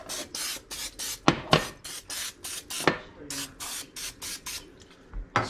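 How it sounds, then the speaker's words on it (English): Cooking spray hisses in repeated short bursts into small dishes set in a Ninja Foodi digital air fryer, about a dozen close, steady sprays with a few clunks of the pans between them. "spray each dish down so that the egg doesn't stick to it"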